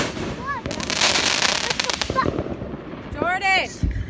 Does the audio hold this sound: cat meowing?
no